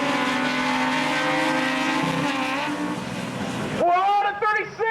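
Racing cars roar around Tosa Raceway Park on their first lap, a loud sustained engine drone with rising harmonics, then a sharper revving whine near the end, under an excited commentator's voice.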